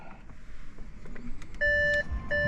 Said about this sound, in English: I'm sorry, this is beeping.